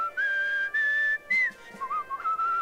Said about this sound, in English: all of the sound clips for your character when you're using whistling to travel faster